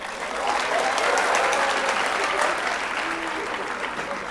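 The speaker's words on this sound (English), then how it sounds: "Let me hear a round of applause if having Shri Nitin Gadkari was amazing." Audience applause at the SRCC Business Conclave 2023 fills the hall, a dense, steady wash of clapping from a large crowd that holds strong for over four seconds before easing slightly.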